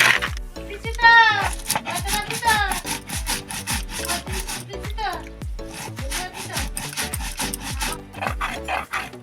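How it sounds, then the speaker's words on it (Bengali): Spices, among them chilli, ginger and turmeric, being ground into a paste by hand, a steady close rasping and scraping in repeated strokes that runs the whole time beneath a voice talking. "তবে আমি এখন মশলাটা বেটে নেবো।"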